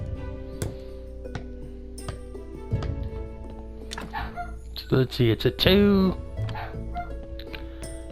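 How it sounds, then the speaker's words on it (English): Dogs barking in short, repeated yips and barks, closer and louder toward the end, interleaved with whimpering calls and someone talking over a steady background hum. "Those dogs in there."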